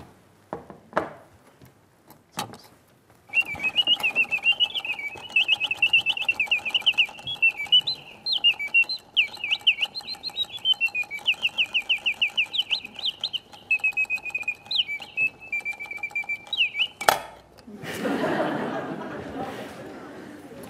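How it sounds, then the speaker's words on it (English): A mechanical singing bird automaton warbles a long, bright chirping birdsong with rapid trills and rising whistles, loud and close, after a few faint clicks of the mechanism winding up, ending with a click and rustling handling noise. "Here's an imitation of a bird."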